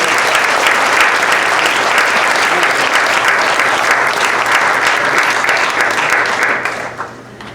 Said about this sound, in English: let's give another round of applause for Jared and his family that are here this evening